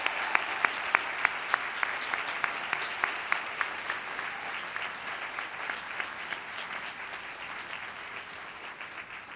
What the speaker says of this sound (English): you deserve your own round of applause